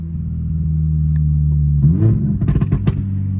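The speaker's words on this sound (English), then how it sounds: "when you don't have those restrictions and the car really breathes the way it's supposed to, you get those pops, right?" A 2023 Toyota GR86 engine drones with a low, steady rumble from inside, then revs shift and a quick run of crackling exhaust pops follows near the end.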